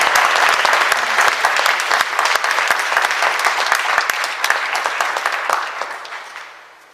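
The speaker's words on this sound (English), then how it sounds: "We need applause." An audience at a 2004 women's forum breaks into dense, steady clapping that holds strong, then gradually fades out toward the end.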